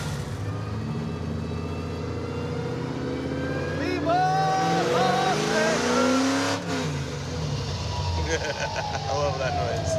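A muscle truck engine runs and revs with a deep, rumbling tone, rising in pitch in a couple of pulls, while several people talk over it inside the cab.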